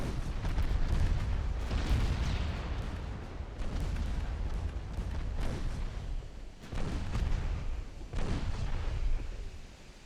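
Ten-inch naval guns firing during a 1904 sea battle off Singapore in Ultimate Admiral Dreadnoughts: heavy, continuous booming salvos with several distinct blasts rolling into each other, loud and dense throughout.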